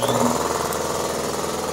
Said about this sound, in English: Instead of using my little compressor, I'm gonna use this big boy. It's got a larger tank, so you have more air